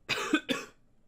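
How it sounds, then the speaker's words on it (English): Two quick, close coughs in a row, sharp and throaty, then fading into quiet. "You made me cough for even thinking of that."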